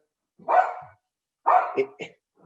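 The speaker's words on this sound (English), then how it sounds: "I think the dog might have had too much wine." A dog barks indoors during a virtual wine tasting webinar, two separate bark bursts about a second apart, the second followed by a short yip, moderately loud against silence.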